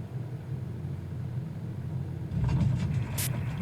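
Aircraft engine in Microsoft Flight Simulator 2020 holding a steady low drone, then throttling up partway through into a louder, fuller rumble that carries on to the end.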